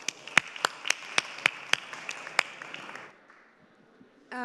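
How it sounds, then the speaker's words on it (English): Audience applause at a fashion hack day finals presentation, with sharp individual claps over a dense wash of clapping that fades out after about three seconds, followed by near quiet. "Big applause for Orti."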